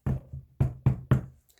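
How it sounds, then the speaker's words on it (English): Five sharp knocks on a door, close and clear, in an uneven pattern of two quick raps, a pause, then three. "Soon there is a knock on my door."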